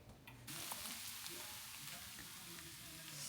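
Scrambled eggs and precooked sausage frying in a pan, giving a steady, close, bright sizzle with faint scrapes of stirring throughout and no voices.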